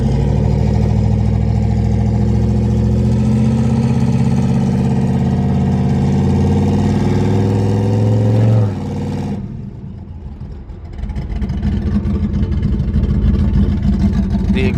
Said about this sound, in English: The exhaust on this side makes it sound badass.